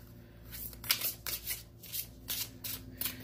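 Goddess Guidance Oracle cards being shuffled by hand, a series of rhythmic riffling bursts about every half second, close and clear with no talking.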